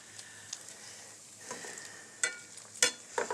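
Pancetta frying in a pan for carbonara gives a faint, steady sizzle, with a few sharper spoon clinks and scrapes rising over it near the end.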